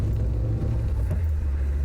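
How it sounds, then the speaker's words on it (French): Citroën AX 10E with a 954 cc four-cylinder engine idling, a steady low rumble that is close and even throughout, with no speech. "Vous reconnaissez le bruit de ce 4 cylindres très 954 qui a équipé notamment les 205 Junior."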